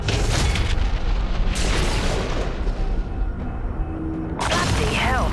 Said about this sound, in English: Cruise missile ready for launch.